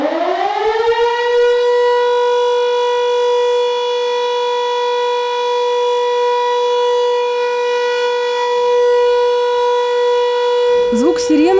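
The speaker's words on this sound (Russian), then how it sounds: "Звук сирены не создал паники." A civil-defence-style fire alarm siren sounds during a fire drill at a state film and photo document archive, rising in pitch and then holding one loud, steady wailing tone for a long stretch.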